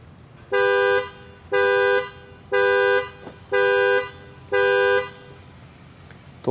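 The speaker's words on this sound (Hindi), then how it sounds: "अभी जो है ये वाला बटन अगर मैं प्रेस करता हूँ तो देखना कितनी ज़ोर से हॉर्न करेगी" Horn of a Volvo XC60 sounding from the panic button as the indicators flash, with five loud, evenly spaced honks of about half a second each, then quiet.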